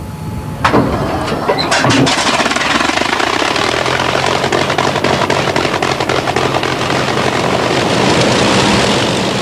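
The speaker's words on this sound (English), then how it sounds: "a good opportunity for them to hear 4 Merlin engines running" An Avro Lancaster bomber at RAF St Athan runs its four Merlin engines on the ground, a loud, continuous rumbling roar that starts with a sharp bang and builds into a steady, deafening drone.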